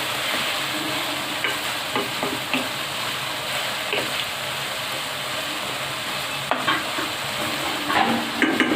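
Chicken frying in oil with onion, ginger and garlic makes a constant close sizzle, broken by scattered scraping clicks of stirring throughout.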